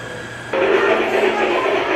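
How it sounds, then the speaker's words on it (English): A loud rattling whir starts abruptly and continues steadily as a small toy train runs close by around a room. "Here's the Hogwarts train. Driving around the room."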